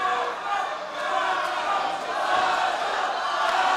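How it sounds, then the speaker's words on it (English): Wrestling arena crowd roaring steadily in support of Lonzo Romero during a Duke City Championship Wrestling match, a dense wash of cheers and shouts holding loud throughout with slight swells. "And listen to this crowd."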